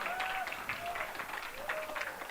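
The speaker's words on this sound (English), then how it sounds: "Please give her a round of applause." Audience applause at a local store launch event, moderate clapping from a small gathering with someone whistling or calling out through it.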